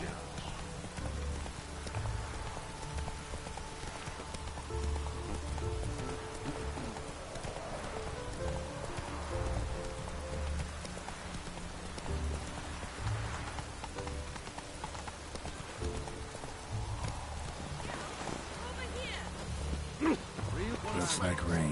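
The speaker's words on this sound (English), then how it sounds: "Looks like rain." Rain falls steadily in The Witcher video game, a constant close hiss mixed with horse hooves clip-clopping, music and voices talking throughout.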